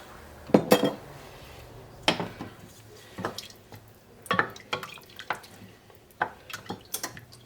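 Diced tomatoes are poured from a can into a cooking pot for Mexican rice and beans, with a series of metallic clanks and clinks and a few soft wet plops spread through the pour.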